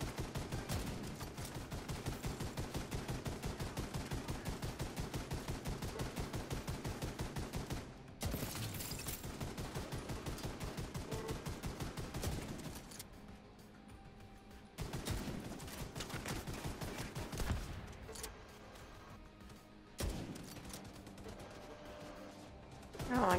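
Dense, rapid gunfire from a firefight in the shooter game The Division 2 (Warlords of New York), with sustained automatic bursts, a few brief pauses, then renewed volleys, loud and continuous throughout.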